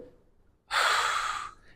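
A deep breath drawn in and pushed out, a single strong airy exhale lasting under a second after a short silence, close to the microphone with no talk.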